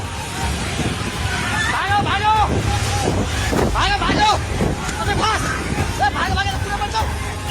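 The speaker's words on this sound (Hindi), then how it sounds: "नदी के पास मौजूद लोगों ने जब उस जल प्रलय को अपनी तरफ आते देखा तो उनके होश उड़ गए, चीख पुकार मच गई।" A flash flood turns a river in Rasuwa, Nepal, into a raging torrent. The loud, churning rush of water runs throughout, and people nearby scream and shout in panic over it.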